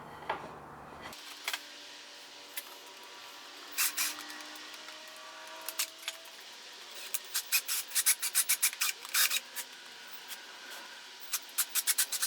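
Close scraping and rasping as drilled holes in a table are cleaned out by hand, quiet at first and then a run of quick repeated rubbing strokes growing busier toward the end, with no voices.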